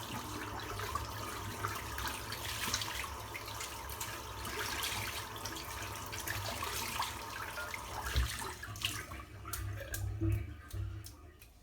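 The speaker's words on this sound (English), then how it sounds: "Rinse the soap out." Water runs steadily from a tap to rinse shaving soap out, a continuous close wash with a few small clinks and bumps toward the end.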